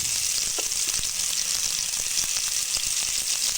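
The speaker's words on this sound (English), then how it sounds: "the onion paste as well as ginger garlic paste together, and then I will fry them until the oil gets separated" Onion paste with ginger garlic paste fries in hot oil, a steady bright sizzle with faint stirring scrapes, close and even throughout with no talk.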